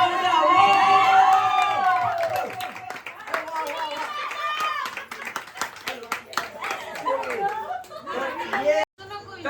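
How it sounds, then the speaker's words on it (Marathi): Family members clap and cheer for a dance performance at a home Ganpati celebration, with brisk, close clapping mixed with excited voices, chatter and laughter, fairly loud throughout, then a sudden brief drop near the end. "तर जोरदार टाळ्या होऊ द्या"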